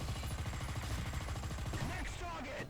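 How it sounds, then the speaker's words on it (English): Rapid, steady machine gun fire rattles continuously in a Tiger tank battle game set in Tunisia, loud and close, with a brief voice near the end. "Wow, okay, but the machine guns."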